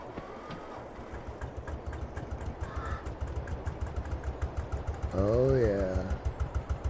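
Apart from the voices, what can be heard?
tractor engine starting and puttering in a video game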